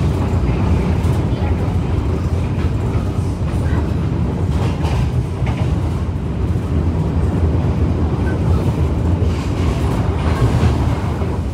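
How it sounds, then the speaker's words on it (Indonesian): The Logawa passenger train passes straight through Waru station with a steady, loud rumble and rolling clatter that lasts throughout. "Logawa melintas langsung."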